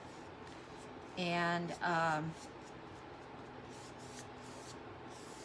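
A spray bottle mists water onto dry wood before painting in a dry desert climate, two short close spritzes with a brief word spoken just before.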